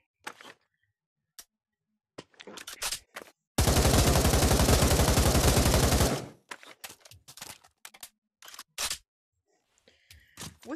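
A machine pistol fired with the grip lets off one loud, dense burst of rapid full-auto fire lasting a couple of seconds. Scattered metallic clicks and handling noises come before and after it.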